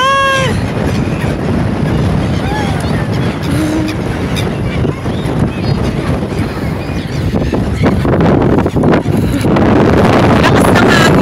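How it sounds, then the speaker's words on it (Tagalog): Strong wind roars across the microphone in the open air where seagulls are being fed by hand in Korea, a loud, unbroken low rumble lasting throughout, with faint gull cries and voices mixed in. "Lakas ng hangin."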